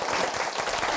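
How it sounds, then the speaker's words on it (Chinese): Warm applause from an audience welcoming a guest Cantonese opera teacher at a school event, a steady dense wash of many hands clapping close by and continuously for the whole second. "我哋以热烈嘅掌声欢迎佢"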